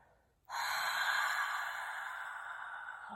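A single open-mouth exhale during breathwork starts abruptly and flows out as a long, breathy whoosh that slowly fades, close to the microphone.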